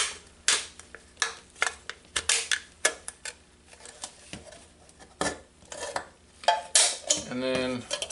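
An aluminum soda can is cut open by hand, making a series of sharp metallic snips and crinkles in an irregular rhythm, close and fairly quiet with brief pauses between cuts.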